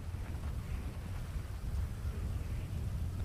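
Rain and rumbling thunder in the video game GTA V: a low, continuous rolling rumble under a steady hiss of rainfall, fairly faint and without talk.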